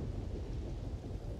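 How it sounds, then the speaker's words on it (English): A brief stretch of rain and low thunder at Nesoi in the video game Starfield: a soft, continuous rumbling hiss, fairly faint and even, with no voices. "it's lightning and rain out here at Nesoi"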